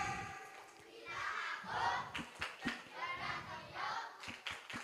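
Children in an audience clap in bursts during a tepuk diam clapping game at an Islamic religious talk, with sharp separated claps and excited young voices over a busy crowd.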